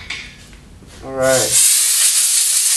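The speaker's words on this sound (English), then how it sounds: "Blow those chips out." Compressed air blasts chips out of a freshly drilled hole: a brief clatter, then a loud, steady hiss of air that runs on for over a second, close by.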